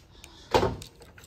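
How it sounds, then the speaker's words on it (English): The trunk lid of a 2007 Mitsubishi Spyder pops open with a single short, soft thump and latch release, followed by a brief fading rustle, close by and alone. "Let's see if we can pop the trunk over here."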